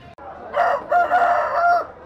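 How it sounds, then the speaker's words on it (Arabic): Polish breed chickens at a bird market, with a rooster crowing in a drawn-out call and clucking fowl close by, set against market background noise. "احلى دجاج هو البولندي"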